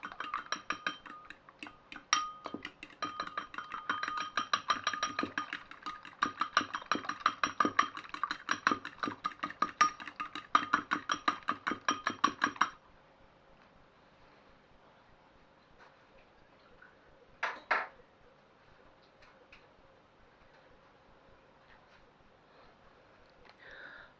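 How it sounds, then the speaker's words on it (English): Rapid rhythmic whisking of a carrot and lentil mixture in a bowl, a steady run of close clinking strokes that stops partway, followed by quiet with a brief knock. "And then we're just going to whisk that together."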